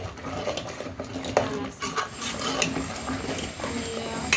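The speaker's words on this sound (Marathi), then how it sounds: "तर हे मसाला वगैरे सगळं असं याच्यामध्ये परतून घ्यायचं आहे आपल्याला" Masala sautés in a pan over high gas as a spoon stirs and scrapes, giving irregular close rubbing and clinking against a soft sizzle.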